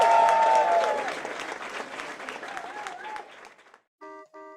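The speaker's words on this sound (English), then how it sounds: "a round of applause for these guys" Audience at a comics store event applauding the guests, a dense burst of clapping that fades out over a few seconds, followed by a short electronic tone.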